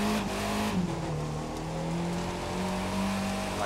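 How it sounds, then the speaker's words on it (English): A car fitted with a drag car engine revs and roars steadily in the racing video game The Crew 2, the engine note holding loud and close with slight pitch shifts throughout. "here it looks like it has a drag car engine in it"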